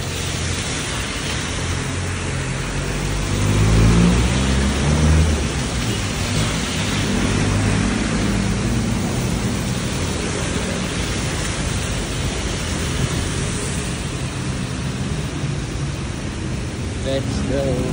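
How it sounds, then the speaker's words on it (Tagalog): Heavy rain pours down in a steady, dense roar on a city street near Buendia bus terminal in Manila, holding for the whole stretch, with a low rumble underneath and faint voices buried in it. "Lakas ng ulan."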